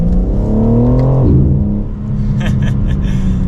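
A BMW M4 Competition engine revs up hard and climbs in pitch, then drops as the gear changes, loud and close from inside the car.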